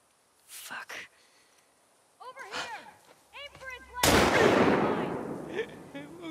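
Gunfire in The Last of Us Part 2: a sharp, close blast rings out with a long reverberant echo, after earlier short bangs and tense voices talking in the scene.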